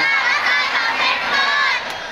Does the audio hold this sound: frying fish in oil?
no